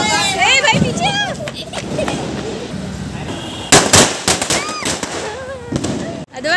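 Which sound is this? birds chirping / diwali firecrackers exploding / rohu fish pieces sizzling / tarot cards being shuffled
diwali firecrackers exploding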